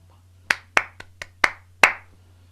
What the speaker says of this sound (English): you notice I'm starting to clap them there in order to internalize these rhythms